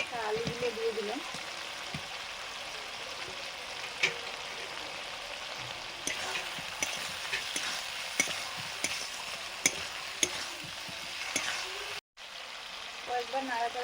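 Fried potatoes are stirred in a frying pan with a little sugar, a steady close sizzle broken by scattered scraping taps of the spoon against the pan.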